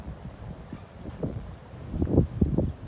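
Gusty wind buffeting the microphone, low rumbling bursts that swell and fade, strongest toward the end, no speech.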